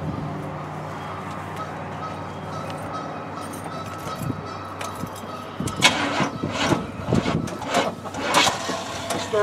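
A 1979 Chevrolet K10 Custom Deluxe 4WD truck engine cranks without starting, an uneven churning rumble that grows louder and more ragged toward the end over steady background noise.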